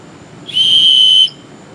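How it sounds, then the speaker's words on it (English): A very loud survival whistle gives one sustained, piercing blast of under a second, close and steady with a clean tone that cuts off abruptly, then near-quiet. "this is a very loud whistle"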